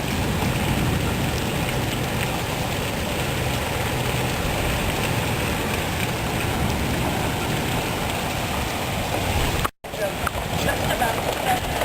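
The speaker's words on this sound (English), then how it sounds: "Yeah, there's the hail." Hail and heavy rain pour down during a severe thunderstorm, a dense, loud, continuous roar for nearly twelve seconds with one brief dropout, while someone talks over it.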